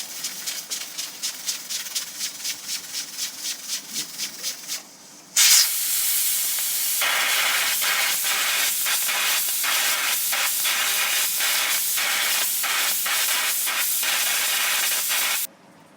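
Steam puffs out of a pressure cooker whistle cooking mutton with taro root in rapid rhythmic bursts, then a loud continuous hiss rushes out with a steady pulsing beat before cutting off abruptly.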